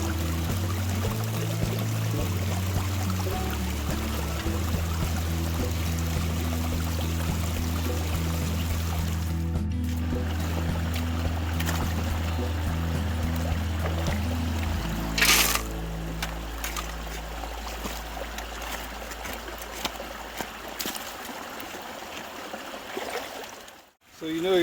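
Water runs steadily through a GEOSLUICE Californian Mini sluice set in a river, fed by a small dam, with a continuous rushing flow close by and no talk.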